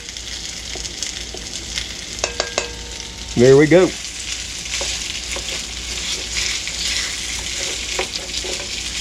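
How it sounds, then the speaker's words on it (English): Beef sizzles and fries in hot oil in a wok for a pepper steak stir fry, a steady loud crackling hiss throughout, with a brief spoken phrase partway through. "Did you hear that sizzle?"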